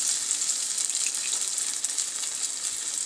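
Ginger and three green chilies fry in hot oil with a steady, loud, hissing sizzle that stays even throughout, no one speaking.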